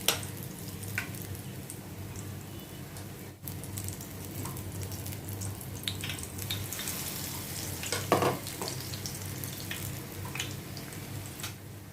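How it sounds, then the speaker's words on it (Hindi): Batter-dipped potato bread rolls fry in hot oil with a constant bubbling sizzle, close up, joined now and then by a soft stir or splash, and no voices over it. "अभी इसको मैं ये बेसन में ये बैटर में मैं डिप करके मैं फ्राई करूँगी"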